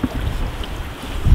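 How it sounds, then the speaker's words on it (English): Steady wind buffets the microphone with a low rumbling roar while pole fishing for brook trout on the water, gusting louder toward the end, with no voices. "We got the wind going"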